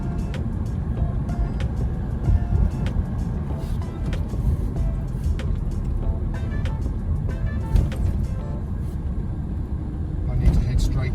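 A car drives through the city streets of Khon Kaen, Thailand, with a steady, loud low rumble of engine and road noise throughout, and a person talks over it.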